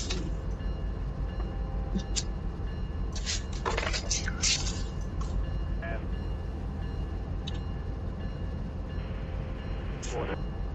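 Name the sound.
BNSF 8116 train moving in video game RUN8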